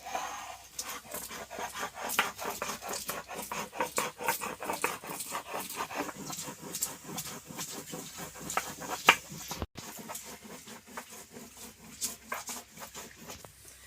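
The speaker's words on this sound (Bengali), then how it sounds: "তো সর্ষেটা আমি ভালোভাবে বেটে নেব।" Mustard seeds ground by hand into a paste on a grinding stone for a rupchanda fish curry: close, steady rhythmic scraping and knocking strokes that continue with only a brief pause.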